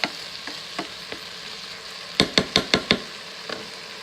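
Garlic sautéing in an Instant Pot, a faint steady sizzle broken by sharp utensil knocks against the pot, a quick burst of five taps near the middle, no voices.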